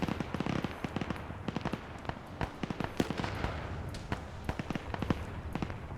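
A GPMG fires in a video game as sharp, irregular cracks and short bursts, moderately distant and fairly quiet over a low background rumble.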